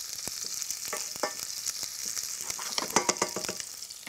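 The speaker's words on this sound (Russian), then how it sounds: "И обжариваю лук и чеснок." Chopped onion and garlic fry in vegetable oil in a pan for beet cutlets, a steady close sizzle broken by crackles and pops as the vegetables are stirred.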